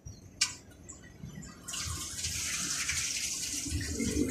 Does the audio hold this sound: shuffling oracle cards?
no